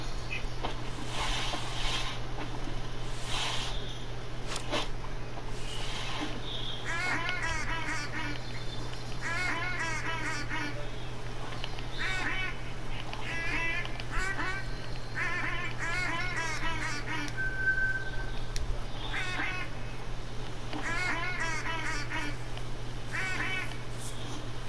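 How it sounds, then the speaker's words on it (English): Ducks in the hunting game The Hunter: Call of the Wild quack in repeated bursts of rapid nasal calls spread across the scene over a constant low hum, moderately distant, with no talk. "You'll hear them. They'll quack. You'll hear quack, quack, quack, quack, quack, quack, quack, quack."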